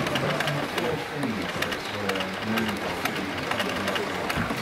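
A sewing machine running a short burst of reverse stitching on a tarp, a fast mechanical whirr with clicking needle strokes, steady and close, under a voice talking.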